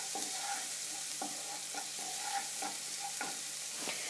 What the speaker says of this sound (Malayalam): ജിഞ്ചർ ഗാർലിക് പേസ്റ്റ് ഒന്ന് നല്ലോണം മൂത്ത് വരട്ടെ.